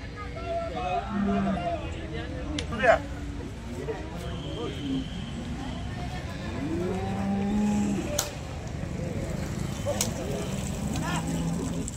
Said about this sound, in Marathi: हे सुद्धा यांच्याच गायी आहेत.